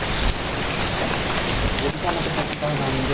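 Heavy rain pours steadily and loudly on a lone house atop a mountain, a dense continuous hiss with drops drumming on a surface nearby.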